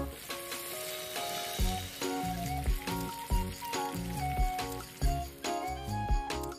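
Banana snacks sizzle steadily in hot oil, with a constant bubbling crackle and repeated soft clinks and knocks as the pieces are turned, close and fairly loud, with no talking.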